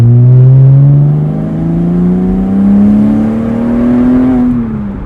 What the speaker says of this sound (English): it really is Porsche's signature sound of the last couple decades